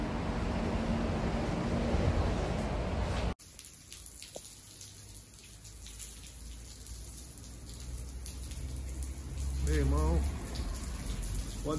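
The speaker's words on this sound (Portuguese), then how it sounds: "Olha o tempo como tá. Chuva, hein?" Rain falls steadily in a dense hiss on nearby surfaces, loud at first, then softer after an abrupt cut. A voice speaks briefly over it.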